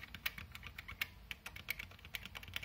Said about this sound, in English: These are not micro switched, listen.